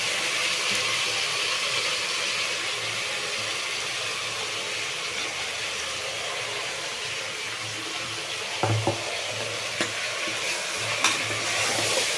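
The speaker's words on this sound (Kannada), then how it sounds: "ಇದೆಲ್ಲ ಸ್ವಲ್ಪ ಎಣ್ಣೆನಲ್ಲಿ ಫ್ರೈ ಆಗಲಿ" Food fries in a little oil in a pan, a steady broad sizzling hiss with a few soft stirring clatters toward the end.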